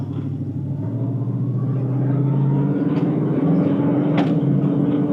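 A 1969 Ford Mustang Mach 1 V8 pulling away on the road, its deep rumbling engine note rising steadily in pitch as it accelerates, loud and close, with no talk.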